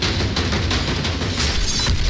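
Explosions in war-torn Kharkiv, Ukraine, under Russian attack: dense, rumbling booms and bursts roll continuously, loud and close, with no clear gaps between them.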